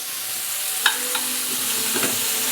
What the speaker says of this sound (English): I flipped the shrimp and it's sauteing for another 2 minutes on this side